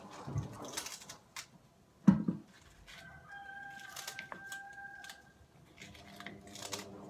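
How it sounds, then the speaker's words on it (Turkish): A rooster crows at a moderate distance, a drawn-out call heard over faint household noise from a running washing machine and a few clattering knocks. "Yine horoz ötüyor."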